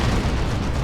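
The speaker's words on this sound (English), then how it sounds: "Another rocket run." Rocket run explosion in the Warhammer 40,000: Dawn of War 2 video game, a short dense rumbling blast that fills the moment, loud and close, with no talk.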